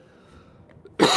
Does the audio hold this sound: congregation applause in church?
no